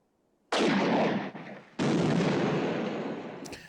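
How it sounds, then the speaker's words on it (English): A loud explosion in the 1974 film Blazing Saddles: two heavy, roaring blasts in quick succession, each decaying into a long rumble. "I was about to say that was the worst explosion ever"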